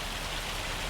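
Steady rain hisses evenly in Farming Simulator 25, a dense, continuous wash of raindrops on surfaces with no voices, brief and uniform throughout.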